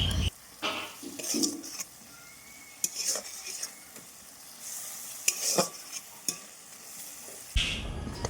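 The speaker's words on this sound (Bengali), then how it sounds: "মশলাটা ভালোভাবে কষিয়ে নিতে হবে।" Masala spice paste is stir-fried in a kadai for chicken curry, with a sizzle under irregular spatula scrapes and knocks against the pan, close and fairly quiet, ending in a louder burst; no one talks.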